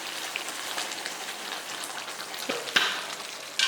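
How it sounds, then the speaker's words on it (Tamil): A paste for Kerala pepper chicken hitting a hot pan, with a steady close sizzle like rain, a few sharp crackles and pops, and a clink of a spoon near the end. "இந்த பேஸ்ட் வந்து இதில் ஊற்றிடலாம்"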